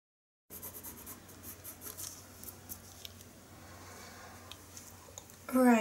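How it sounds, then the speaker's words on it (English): Colored pencil burnishing across paper to blend layered colors on a horse ear drawing, a close, soft steady scratching and rubbing with small ticks, quiet and continuous, ending in a brief louder noise. "And the burnishing I just do to blend the colors together"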